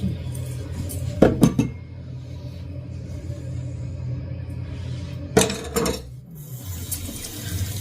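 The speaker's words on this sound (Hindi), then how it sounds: "और अभी मैं बर्तन धोने लगी हूँ। बर्तन मैं धोऊंगी ये ग्लव्स पहन के," Dishes being washed by hand with gloves on: a low, steady rumble of running water, broken by two short bursts of clinking plates and utensils close to the microphone.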